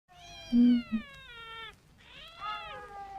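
Dubbed cats in a giallo film, Seven Blood Stained Orchids, give two drawn-out, whining meows, each tonal and wavering, the first longer than the second, with a brief low thump near the start of the first.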